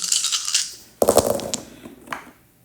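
Dice for a card reading tumble and clatter close by in two short rattling bursts, the second sharper, then settle into quiet, with no voices.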